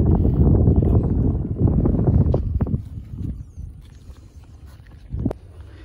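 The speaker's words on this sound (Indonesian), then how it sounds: "hari ini angin ngeselin" Strong gusting wind buffets the microphone outdoors while a pegon-style bird kite is being set up, a heavy rumbling roar that eases off, with brief thumps and knocks and no voices.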